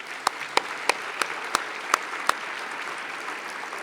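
Lawmakers in a state House chamber give retiring representatives a round of applause, a soft wash of clapping marked by several sharp, evenly spaced loud claps standing out near the front.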